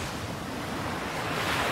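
Strong wind roars steadily by the sea in Jeollado, Korea, mixed with surf wash and microphone buffeting, filling the whole moment with broadband noise and no voices.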